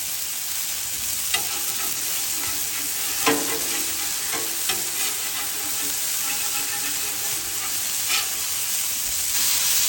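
Smash burger patties sizzle steadily on a Blackstone griddle after being flipped, a loud continuous frying hiss with a few scraping clicks from a spatula.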